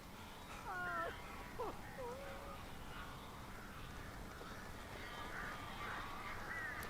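Crows cawing in the distance inside Alan Wake Remastered, a few harsh calls spread across a steady murky ambient bed, faint and far off.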